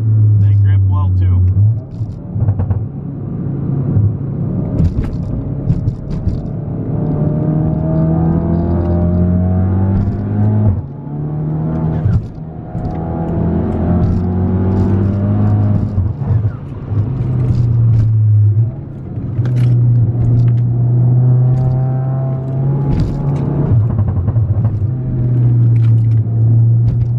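A Volkswagen Golf GTI Mk7 engine revs loudly and steadily, its pitch rising and falling through repeated throttle blips and downshifts, with a continuous rumble underneath.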